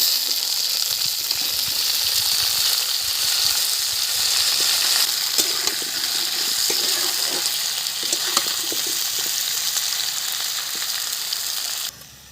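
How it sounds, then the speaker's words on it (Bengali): Onion, sweet pumpkin and potato fry in hot oil with cumin in a pan, giving a loud, steady close sizzle that runs continuously before cutting off abruptly at the end. "পেঁয়াজ দিয়ে দিলাম এখানে দিয়ে দিচ্ছি মিষ্টি কুমড়া আর আলু"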